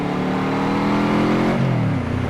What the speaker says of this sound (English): Oh, listen to that 4-cylinder V4.